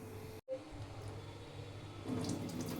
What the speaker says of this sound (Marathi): त्यासाठी तूर डाळ घेतली, धुवून घ्यायची.